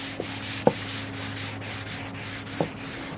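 Used paper towels rub softly and steadily across a wooden bonsai stand, a close, low friction sound with a few sharp knocks of the stand.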